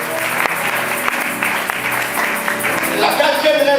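A church congregation at a Friday worship service applauds steadily and fairly loudly, with voices calling out over the clapping.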